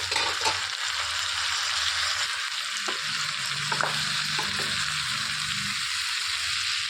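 Finely chopped country tomatoes frying in a bitter gourd tomato curry, a steady sizzle with intermittent spoon scrapes as the pieces are stirred, close and alone.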